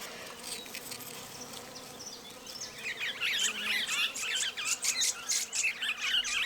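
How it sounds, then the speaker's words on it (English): Bees buzz around a flowering bottlebrush tree with bright red flowers, a soft insect hum over outdoor background that grows louder and busier midway, with bird squawks mixed in. "Bees are hovering all over the tree,"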